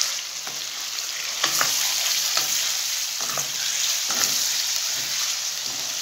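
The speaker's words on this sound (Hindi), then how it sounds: "इसमें डालेंगे पहले करना है इसको फ्राई" Bone-in chicken pieces fry in hot oil in a karahi for a restaurant-style chicken karahi, a continuous loud sizzle close by with occasional stirring and scraping clinks.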